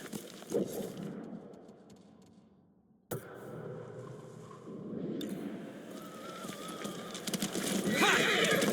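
A horse whinnies amid hoof clip-clops and background noise from the video game Ghost of Tsushima, with a sudden shift partway through; the sounds stay fairly close.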